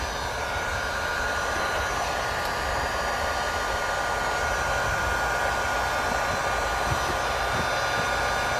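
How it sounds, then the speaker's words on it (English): A heat gun blows a steady, airy whoosh close by as it warms a scraper to lift a decal off a boat, with a continuous even hiss throughout. "You basically take the heat gun and heat up the scraper, and it just comes off."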